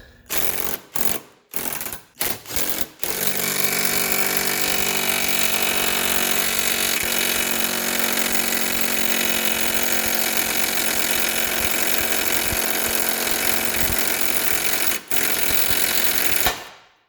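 An electric hammer working on a 2006 Subaru Outback CV shaft and wheel hub stutters in a few short bursts, then runs in one long, loud, continuous rattling hammering that stops briefly once and ends abruptly.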